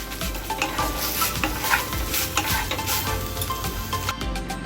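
Chhana drying out in a wok over a gas flame, stirred with a spatula in steady, busy scraping strokes over a soft sizzle, close and continuous with occasional clinks.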